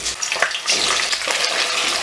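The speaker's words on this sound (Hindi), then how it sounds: "तो अब इसमें हम सबसे पहले गोभी को फ्राई कर लेंगे" Cauliflower pieces sizzle in hot oil in a pan while cooking for veg korma, giving a steady, close, hissing crackle throughout with no talk.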